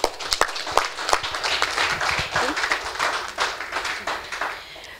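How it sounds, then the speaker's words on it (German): A carnival audience applauds at a children's prince-couple presentation, with sharp individual claps at first that merge into a dense, steady round of applause in a hall. "jetzt euer Applaus"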